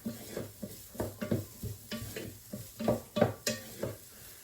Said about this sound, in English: Nothing like the smell of onions and garlic frying.